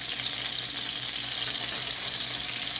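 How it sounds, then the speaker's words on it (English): Gnocchi-style butternut squash gnudi caramelizing in a hot pan of butter and olive oil, giving a steady, dense, loud sizzle that holds evenly throughout with no talking. "we're going to go right to getting our gnocchis caramelized. That's the sound you want to hear."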